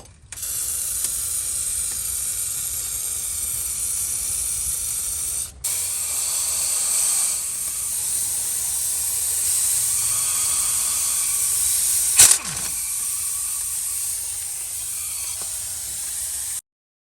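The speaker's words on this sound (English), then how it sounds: "Spray." Steady hissing spray from an aerosol can during hub bearing and axle work on a Chevy truck, running continuously for several seconds with a brief break, ending with a short sharp mechanical click.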